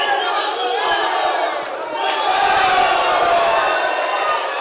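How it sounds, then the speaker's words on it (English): A large boxing crowd chants and cheers loudly for Ramirez during a fight, a dense, continuous roar with rising shouts and whoops, a commentator's voice faintly under it. "As the crowd now getting behind Ramirez, chanting well."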